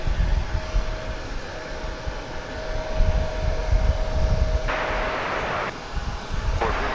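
A passenger plane bound for San Antonio rumbles at DFW Airport in a broad, steady engine roar with a faint whine, heard from a distance as it begins its takeoff run.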